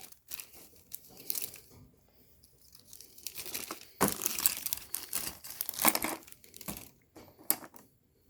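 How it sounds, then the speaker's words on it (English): Plastic wrapping and tape on a paint set package being torn and pulled off, with crinkling, crunching bursts coming in clusters up close, loudest in the middle and trailing into softer rustles. "Assuming I can get into the package and get past this tape."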